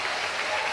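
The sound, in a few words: church congregation applauding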